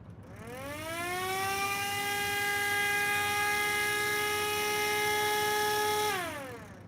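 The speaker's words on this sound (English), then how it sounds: "Again, you're gonna hear some scraping." A small assembled 12-port model siren with a light, unweighted rotor spins up quickly into a loud, steady multi-tone wail over a scraping rasp, then drops off sharply near the end with almost no wind-down.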